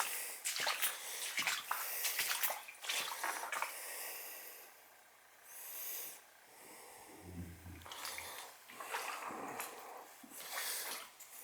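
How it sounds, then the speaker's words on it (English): Water floods into a basement, a steady rushing and splashing flow interrupted by drips and gurgles, heard up close and fairly quiet with no talk over it. "There's a lot of water coming on. Got a good inch in this whole basement."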